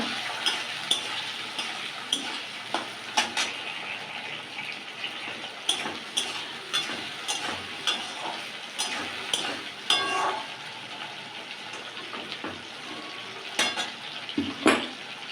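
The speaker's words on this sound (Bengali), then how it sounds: "আর দেখো আমার তেলটা গরম হয়ে গেছে। এবার দেবো পেঁয়াজ" Onion and tomato hit hot oil in a pan for a chili fish curry, giving a steady close sizzle with repeated stirring scrapes and clinks of a utensil against the pan, no talking.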